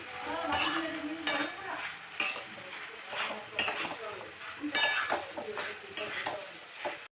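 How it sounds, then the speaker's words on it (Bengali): Drumstick stems and potatoes are sautéed in a pan with mustard, with a spoon stirring and scraping in repeated strokes over a gentle sizzle, with pan clinks up close. "ডাঁটা আলু একটু কষিয়ে নেব, খুব বেশি কষাবো না"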